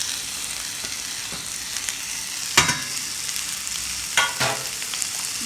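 Shredded cabbage stir-fried in a hot pan for hakka noodles, a steady loud sizzle with a few sharp clatters of a spatula stirring, no voices.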